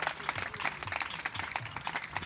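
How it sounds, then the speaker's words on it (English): Scattered audience clapping for players at a national wheelchair tennis camp in Kumasi, uneven and moderately loud, with faint voices underneath. "So all the players here, very big round of applause."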